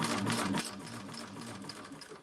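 Sewing machine stitching thin lining, a fast steady mechanical whir and rattle close by, louder at first and then settling into a softer running hum.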